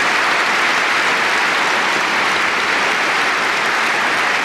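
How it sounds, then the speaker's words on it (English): Dense, steady applause from a hall crowd at the end of the 1979 Friends Provident Masters badminton final, a loud unbroken wash of clapping that holds level throughout with no voices over it. "Players deserving of the applause they're receiving."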